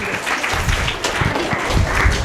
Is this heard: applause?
yes